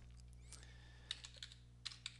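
Quick typing on a computer keyboard, a short burst of light, close key clicks in an uneven rhythm over a steady low hum.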